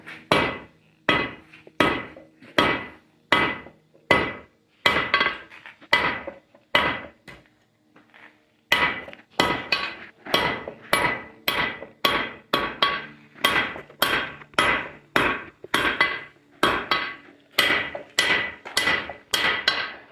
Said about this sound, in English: I'm going to use the flat side of my hammer because I don't need to be as aggressive